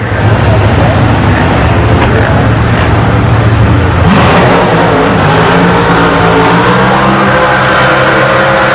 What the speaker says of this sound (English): check out the burnout